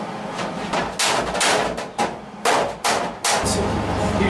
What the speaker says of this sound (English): We're going to hammer right where our weld is.